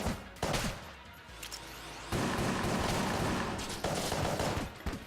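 Game gunfire in Enter the Gungeon with piercing shots, bursts of rapid shots and booms that come in waves and stay loud and close throughout, with no talking.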